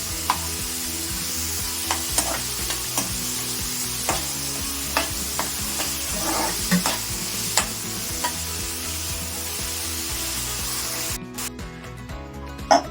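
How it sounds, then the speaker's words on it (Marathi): Onions sauté in a pan until brown, a constant loud sizzle broken by regular scraping strokes of a spatula, close and steady. "कांदा चांगला ब्राऊन होईपर्यंत आपल्याला परतून घ्यायचा आहे"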